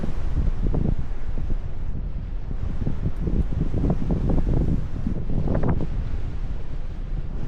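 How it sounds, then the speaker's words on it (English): Strong gusting wind batters the microphone at Tantallon Castle on the Scottish coast of East Lothian: a loud, continuous roar with rumbling buffets that rise and fall throughout, with no voices. "The wind behind me is mental."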